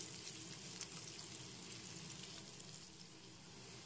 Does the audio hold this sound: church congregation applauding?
no